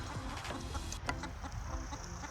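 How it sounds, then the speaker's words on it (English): Chickens clucking outdoors on a forested ten-acre homestead garden, soft scattered calls under steady background noise with no talking. "Oh, one of my chickens is coming."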